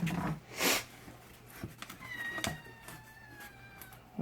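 Cats meow indoors in a couple of short, moderately loud calls, with a drawn-out whining meow toward the end over light background clatter.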